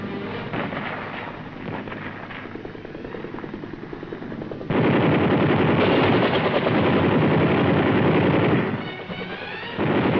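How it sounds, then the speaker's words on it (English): Helicopter gunships fire machine guns at enemy positions in a woodline around a landing zone, a dense, sustained rattle of gunfire mixed with rotor noise that grows louder midway and stays heavy, with no talking. "the gunships open up on enemy personnel in the woodline surrounding the landing zone"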